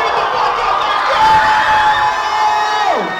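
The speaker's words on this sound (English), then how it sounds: "let's get a round of applause for her" A crowd at a live comedy show in Riga, Latvia, cheers and whoops loudly and steadily, a dense wash of shouting voices with one sustained high yell that slides down at the end.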